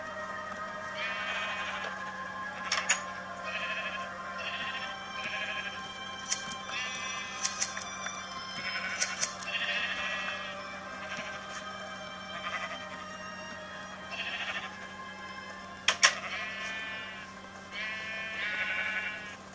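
Repeated sheep bleats in the video game Minecraft, several overlapping calls over a steady low hum, with sharp clicks scattered between them.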